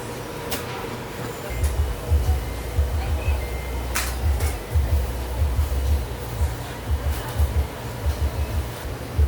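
A two-head embroidery machine runs in a production area, giving a low, rapid mechanical stitching chatter that pulses in bursts after a brief start, steady and fairly loud, with faint clicks above.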